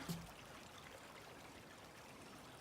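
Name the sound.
running water of a forest stream near a trail bridge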